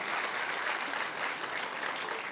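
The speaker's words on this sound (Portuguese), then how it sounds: "Vamos aplaudir ao Senhor?" A church congregation applauding at an evening youth service, a dense, even wash of clapping sustained throughout without letup.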